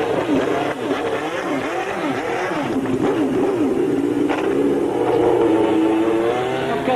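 A 1991-era Benetton B191 Formula 1 car on a racetrack, its engine revving hard and continuously, with pitch swooping up and down through gear changes, loud and close.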